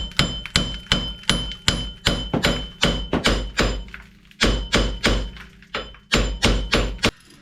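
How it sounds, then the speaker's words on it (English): A hammer raps on the wheel hub of a 2006 Chevy HHR during a wheel bearing replacement, giving a steady run of sharp metallic blows, about two per second with a brief pause, loud and close with ringing overtones. "you give it a couple of raps with a hammer."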